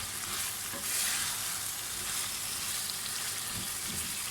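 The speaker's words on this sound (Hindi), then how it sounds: "जब तक चिकन की भुनाई होगी अच्छी तरह से" Chicken with a chopped medium tomato sizzles and fries in a pot for a spicy pickle-style curry, a steady close crackle with faint stirring scrapes and no talking.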